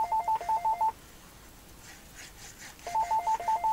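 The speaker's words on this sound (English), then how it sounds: "I'm going to hope my phone stops in a moment, I'm really sorry." Mobile phone ringing indoors, a repeated electronic beeping tone in quick pulsed bursts, fairly faint, with a pause between two ring cycles.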